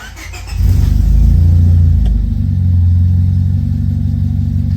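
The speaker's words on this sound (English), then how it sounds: "Go ahead and push in the clutch and fire her up." A manual-transmission Honda Civic engine cranks and catches, revving briefly before settling into a loud, steady idle close by.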